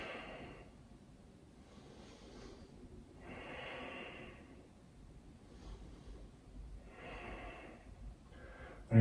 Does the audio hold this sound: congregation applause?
no